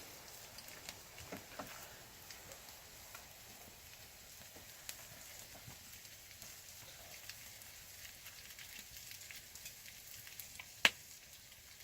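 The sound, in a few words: bannock cooking over a campfire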